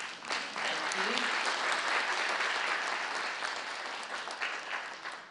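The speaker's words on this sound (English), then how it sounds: "please join me with a round of applause for these amazing panelists" A conference audience at London Business School gives the panelists a round of applause, loud sustained clapping that swells quickly and then gradually thins out.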